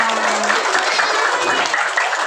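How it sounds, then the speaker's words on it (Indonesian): Schoolchildren at a Ramadan Islamic program at an elementary school in Baubau applaud a teacher with loud, dense, continuous clapping for the whole short stretch. "Tepuk tangan dulu yang meriah, yang kencang."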